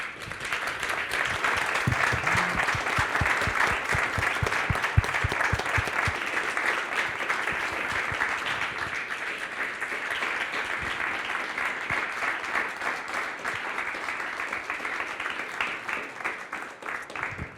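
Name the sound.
audience applause for speakers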